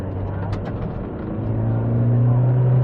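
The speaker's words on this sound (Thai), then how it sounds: "ลองกดคันเร่งผมอยากให้ลองกดแบบสุดเลย" Toyota 4x4 pushed to full throttle on an off-road training track, a loud close engine rumble whose pitch climbs and holds as it revs up, with brief talk early on.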